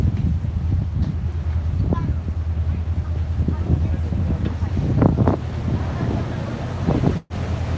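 Wind rushes steadily over the open upper deck of a Tokyo river boat at Asakusa, a constant low buffeting on the microphone with the boat's engine hum beneath and occasional voices, briefly cut near the end.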